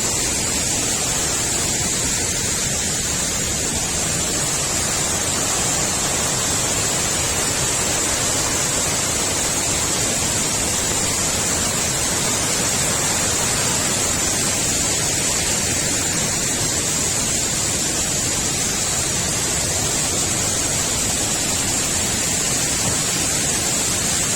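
Tad Sae waterfall near Luang Prabang roars as a constant, loud hiss of falling water, an unbroken broadband rush with no voices over it.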